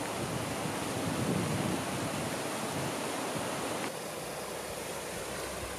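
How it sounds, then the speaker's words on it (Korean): A clear, deep mountain valley stream flows through Gangcheonsan in Sunchang County Park in winter. It makes a steady, close, full rush of water that continues throughout, with no talk. "들어서면서부터 반겨주는 깊고 맑은 계곡!"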